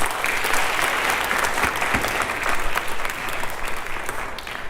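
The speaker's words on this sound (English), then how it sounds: "Let's give her a huge round of applause" A sustained round of applause from the audience at a Bharatanatyam arangetram dance recital, many hands clapping close and loud in a dense, continuous wash.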